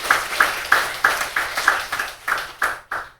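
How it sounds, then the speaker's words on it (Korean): Slow, rhythmic congregational clapping during a Sunday worship service at a Baptist church, about ten even claps in unison over a few seconds, close and moderately loud, with no talking. "아버지 하나님께 영광의 박수 한번 드리겠어요."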